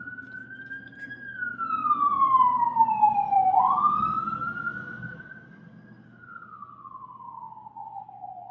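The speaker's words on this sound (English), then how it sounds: "So sorry about the ambulance going by." An ambulance siren wails loudly as the vehicle goes by, one long sweeping tone that falls, then rises again and fades slightly as it passes, over low traffic rumble.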